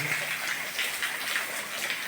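Heavy monsoon rain, about seven inches falling in five hours, pours down in a steady, dense hiss with faint splashing, continuous and fairly loud throughout, no voices over it.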